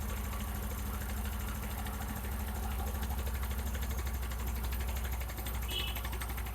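A motorcycle engine runs steadily close by, a dense rapid low thrum with a fast regular pulse and broad rattle above it, holding a constant high pace throughout without talk.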